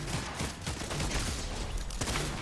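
Rapid gunfire from an Ex-Caliber rifle in the video game Fortnite, a dense, loud barrage of shots and impacts running continuously with no talk over it.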